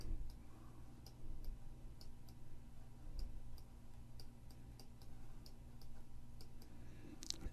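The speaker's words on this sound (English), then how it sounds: "Just clicking over and over." A computer mouse clicks over and over during photo editing, producing quiet, sharp, evenly spaced ticks with short pauses between them over a faint room hum.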